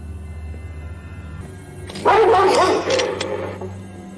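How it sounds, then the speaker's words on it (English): A dog barks and whimpers in the X-Files episode "Ice", with a burst of sharp, high yelping barks that starts abruptly and trails into whines over a low steady hum, loud and close. "the dog is still alive."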